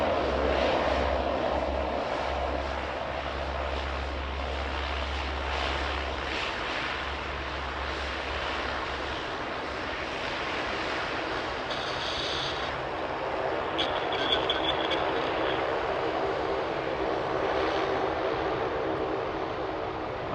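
A Rex airliner taxis at Sydney Airport, heard as a steady, moderately distant jet engine whine and rumble that holds evenly for about twenty seconds, with a low throbbing hum at the start.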